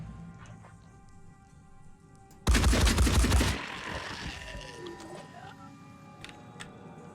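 A sudden, loud burst of rapid gunfire in the tactical video game Phoenix Point lasts about a second. Quieter game ambience and faint talk surround it.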